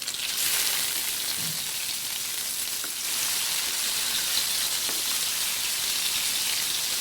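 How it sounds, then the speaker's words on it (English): Pomfret fish pieces fry in a pan for a crispy South Indian fish fry, giving a loud, steady, dense sizzle that carries on without a break. "and fry the fishes"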